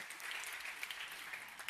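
A conference audience at the 2025 FAO Global Conference on Sustainable Livestock Transformation applauds in a steady, dense round of hand claps that holds even throughout and sounds fairly distant.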